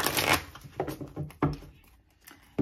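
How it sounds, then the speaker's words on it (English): Tarot cards being shuffled by hand, a series of quick riffling bursts and soft slaps at close range, uneven in rhythm with short pauses between. "I'm going to shuffle all the cards out first"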